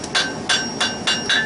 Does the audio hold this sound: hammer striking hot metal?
yes